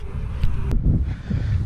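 Wind gusts across open water on a windy day of kayak fishing, giving a loud, steady rumbling roar of wind noise on the microphone with no voices.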